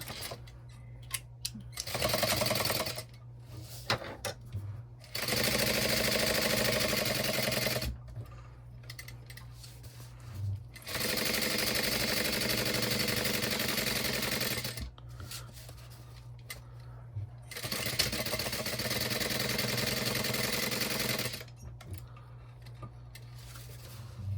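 Sewing machine stitching around a crossbody bag pocket with right sides together, running in four sustained bursts separated by short pauses, steady and close.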